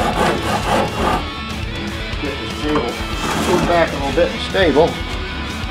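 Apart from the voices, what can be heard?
coarse side of a Shinto rasp shaping a wooden guitar neck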